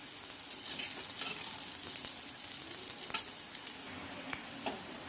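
Sabudana frying in a pan, a steady close sizzle with light spoon stirring and a few brief scraping clicks rising over the constant hiss.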